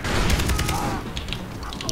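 Loud, dense burst of explosive blasts and crashing debris in Far Cry 3, a sustained roar of booms with crackling fragments lasting throughout.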